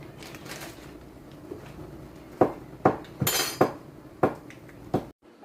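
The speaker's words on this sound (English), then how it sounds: "let's go ahead and mix" A spoon works through akara bean batter with crayfish in a bowl, striking the sides in a series of sharp, close clacks. About seven knocks come at an irregular rhythm, then stop abruptly.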